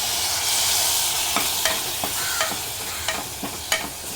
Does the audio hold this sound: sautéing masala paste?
yes